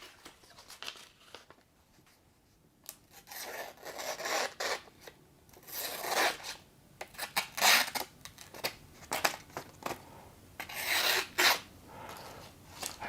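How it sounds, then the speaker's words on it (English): A factory-sharp main blade of a ROCKTOL SK02/SK05 multitool slicing through material in a cut test, giving repeated raspy cutting strokes of rising and falling loudness, close up with no talk. "let's do a cut test on this one"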